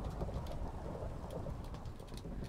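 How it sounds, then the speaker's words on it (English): Minecraft thunderstorm: a soft, continuous hiss of steady rain with low rumbles of thunder rolling beneath, fairly quiet and with no voices. "Oh, it's lightning outside."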